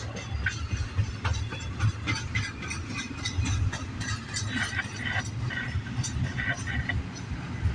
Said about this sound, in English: This has got to be a long intermodal train, I tell you.